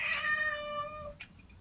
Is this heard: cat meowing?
yes